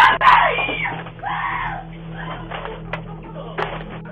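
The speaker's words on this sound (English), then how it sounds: "the rest of the footage consists of the chilling screams coming from the family inside the home" A family screams inside a home, picked up by a doorbell camera during a home invasion: a sharp, loud scream near the start, then further distant, muffled cries and yells over a steady low electrical hum.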